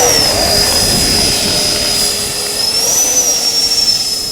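A FlyFans Su-27 Flanker model jet with twin 64mm electric ducted fans spools up and takes off on a gusty day, a loud steady whine with a high shrill tone that wavers in pitch over wind noise.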